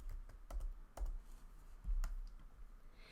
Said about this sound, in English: Then I'm going to type in Babass.